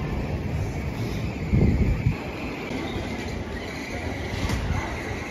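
Station ambience at London King's Cross with Intercity 225 trains, a broad rumbling wash of rail noise and wind buffeting the microphone, with a brief louder gust or rumble partway through and no talk.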